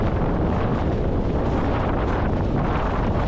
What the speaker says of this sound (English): As the wind's building a little bit